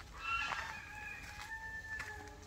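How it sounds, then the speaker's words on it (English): Waterfowl calling at a small resort pond in Shantiniketan, a few drawn-out, wavering calls carrying across the water, moderately close, with no talking. "mostly you'll be hearing the ducks and the swans shouting out loud as you come near them"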